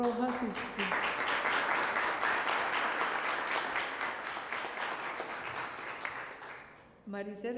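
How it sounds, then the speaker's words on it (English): Audience applause at the award ceremony of a Miami migration story contest honours the presiding committee members, a long dense round of clapping that gradually fades before a voice resumes speaking near the end. "for whom I ask a very sound round of applause"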